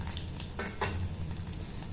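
Ginger paste with whole cumin and spices sizzles quietly in a pan, a continuous even crackle with a couple of slightly louder spurts.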